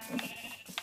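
Sheep bleating in the video game Minecraft, two short close bleats in under a second.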